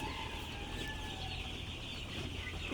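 A chicken being held for beak cauterization clucks softly and steadily under a constant, noisy background hum, with no voices present.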